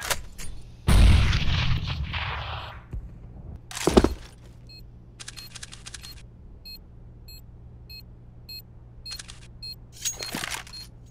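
A flashbang grenade detonates in a Counter-Strike league match with a sharp burst and ringing decay, followed by scattered short clicks and bursts of in-game gunfire and equipment sounds at varying distances.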